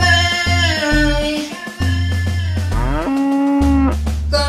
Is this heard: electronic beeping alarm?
no